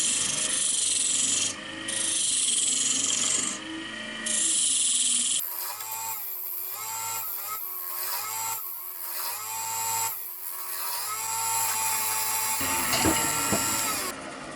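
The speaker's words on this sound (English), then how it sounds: "And now just carry on hollowing a bit more excess wood out." Steady rasping and scraping of a tool hollowing the inside of a spinning wooden box lid on a lathe, continuous and close, with a motor hum and brief pauses between passes.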